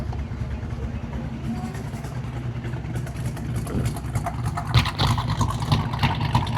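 A custom squarebody truck's deep engine and exhaust rumble drones steadily throughout, close and fairly loud, with a slight rise in roughness toward the end.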